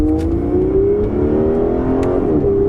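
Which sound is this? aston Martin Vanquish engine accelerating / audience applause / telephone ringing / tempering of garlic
aston Martin Vanquish engine accelerating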